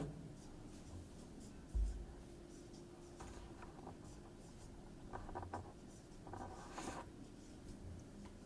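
Pen scratching out a matrix calculation on paper, with soft intermittent strokes and small scribbles close by and fairly quiet, with no talking over them.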